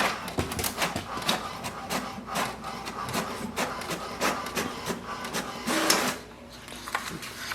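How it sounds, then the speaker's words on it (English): An HP DeskJet 2942 printer prints an information page with close, steady mechanical clattering and whirring, punctuated by rhythmic feed clicks and a brief louder burst near the end, with no voices. "Printer will print the printer information page."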